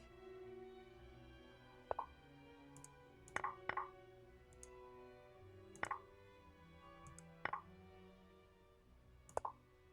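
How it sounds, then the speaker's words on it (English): Scattered mouse clicks from someone playing online chess, sharp and quiet taps that come singly and in quick pairs, spread irregularly across a hushed room with no talking. "You're just hearing a bunch of clicking."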